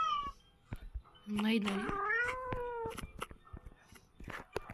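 A cat meows in the horror video game Ice Scream Chapter 2, several rising and falling meows that are clear and fairly loud, with a person talking over and between them.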